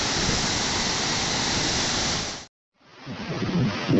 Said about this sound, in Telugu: ఇక్కడ 10 గేట్స్ నుంచి వస్తున్న వాటర్ ఫ్లో చూడొచ్చు